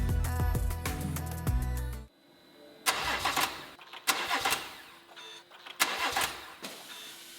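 BMW 118i converted to a B58 M140i engine, cranking without catching: a loud opening stretch, then several repeated bursts of starter churning separated by short pauses, close by with no talk.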